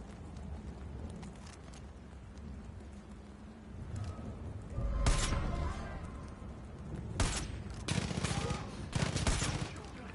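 Sniper gunfire in the Far Cry 5 video game, with sharp cracks around five seconds and a louder burst of shots near the seven to nine second mark over a steady rumbling game background.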